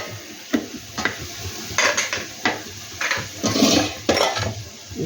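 A lid is set over a metal cooking pot, and several sharp metallic clanks and rattles sound close by in an irregular rhythm, with no speech.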